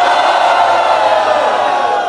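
A live crowd at a Brazilian regional rap battle roars for a rapper, with steady, dense cheering and shouting that stays loud and sustained throughout without a break.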